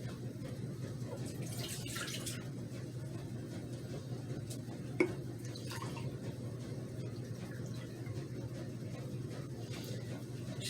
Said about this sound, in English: I'm only going to add 3 cups of the cherry to the pan. I am making a splashing mess.